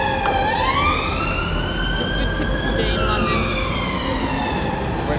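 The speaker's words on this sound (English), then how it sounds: "and there's an ambulance." A loud ambulance siren wails in rising and falling sweeps as it passes close by on a busy London street, over a steady wash of traffic noise.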